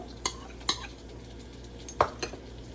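Eggplant stirred into a simmering masala gravy for a brinjal curry, a soft low bubbling crossed by a handful of crisp spoon clacks against the pan at uneven intervals.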